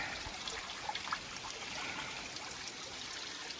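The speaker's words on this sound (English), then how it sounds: "Big old pieces of rock though, with the water running through it." Steady, faint trickle of water running over rocks, a continuous soft wash with small splashy flickers, no voices.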